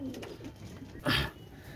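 Pakistani pigeons coo nearby, soft low murmurs followed by one louder, fuller coo, over faint background noise.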